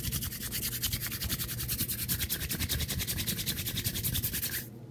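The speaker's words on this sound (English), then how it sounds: "I will just twist it and start twisting and spindling it" Yellow and blue putty being twisted and rubbed by hand, a close, quiet rapid rhythmic scrubbing with regular strokes that stops abruptly at the end.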